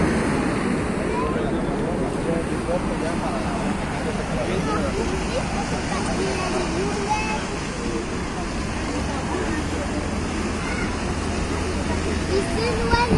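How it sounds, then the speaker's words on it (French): Large waves breaking at sea off Saint-Tropez, a loud continuous roar of surf mixed with wind and background babble, with people talking over it. "il y a des grosses vagues qui arrivent"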